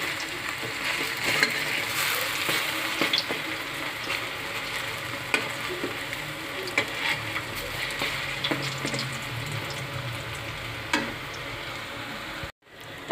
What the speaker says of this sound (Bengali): মুসুর ডালের বড়াটা আমি ভাজতে বসিয়ে দিয়েছিলাম